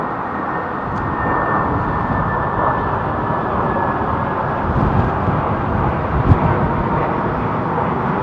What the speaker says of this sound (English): The jumbo jet, ladies and gentlemen.